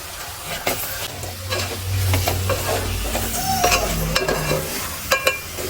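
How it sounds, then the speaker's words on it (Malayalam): Dates being stirred through masala in a pan for a date pickle, with a steady sizzle and repeated scraping, tumbling stirs running throughout, close and fairly loud. "നന്നായിട്ട് എല്ലാ ഈന്തപ്പഴത്തിലും ആ മസാല പിടിക്കുന്ന രീതിയിൽ ഒരു 2 മിനിറ്റ് അല്ലെങ്കിൽ 5 മിനിറ്റ് നമ്മളിങ്ങനെ ഇളക്കി ഇളക്കി കൊടുക്കുക"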